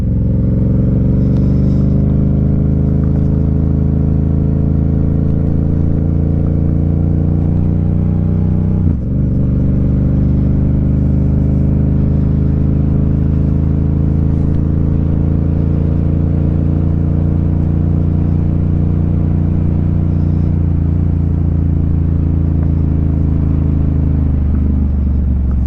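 Engine drone from a motorcycle-like vehicle ridden slowly on gravel for the first time, a steady loud hum with a constant low rumble and a brief dip midway, no clear crunch of stones standing out.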